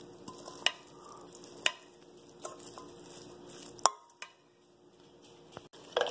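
Vinaigrette mixed in a bowl beside a grill, quiet soft stirring and swishing with a few sharp clicks and taps of the utensil against the container, close and sparse, no talking.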